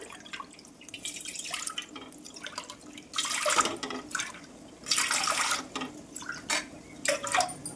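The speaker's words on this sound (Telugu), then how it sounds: "ఇదే గ్లాస్తో ఒక నాలుగు గ్లాసులు వాటర్ అయితే పోస్తున్నాను" Water is poured from a glass into a cooking pot while making coconut payasam, in several separate splashing pours, close and fairly clear, with no talk over them.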